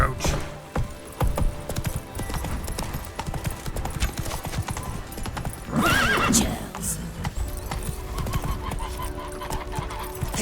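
Horse hooves clip-clop at a gallop in The Witcher 3 video game, a steady beat running throughout with a whinny near the middle, over game music and ambience; someone speaks briefly.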